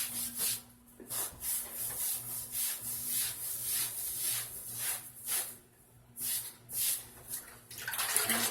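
A wet sponge scrubs excess grout off a slate tile wall in rhythmic back-and-forth strokes, about two per second, close and soft with a gritty watery swish and a faint low hum underneath.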